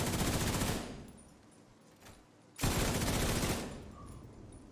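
Video game weapon firing after a reload from empty with boosted fire rate and damage: two long, loud, dense bursts of rapid gunfire separated by a short lull.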